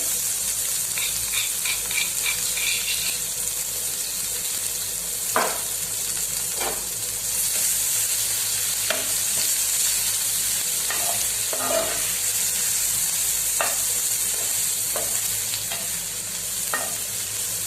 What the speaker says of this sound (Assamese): এইখিনি এতিয়া ব্ৰাউন কালাৰ হোৱালৈকে অকণমান ভাজিম।